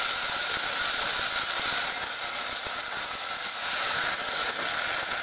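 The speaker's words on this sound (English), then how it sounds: "You just stir it around." Cumin rice pilaf with diced potato being stirred in a hot pot gives off a steady, even hiss and sizzle that runs unbroken from start to finish, with no voices.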